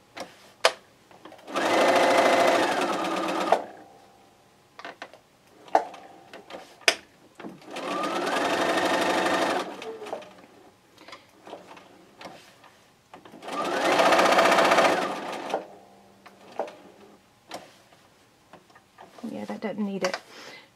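A sewing machine chain stitches raw-edge square quilt pieces in three sustained whirring runs, with clicks, fabric handling and pauses between them.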